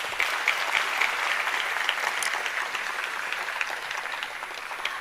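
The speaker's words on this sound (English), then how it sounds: "Can you please give him another round of applause?" A round of applause from an audience at a mayoral matric awards ceremony, steady dense clapping filling the whole stretch with no voices over it.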